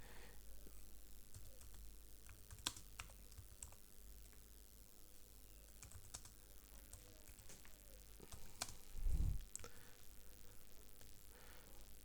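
Python code is typed on a computer keyboard: faint, sparse keystroke clicks in irregular bursts over a quiet background, with one slightly louder thump near the end.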